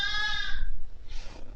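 A Blackface sheep bleats once, a close, wavering cry that fades into a softer second call on a farm.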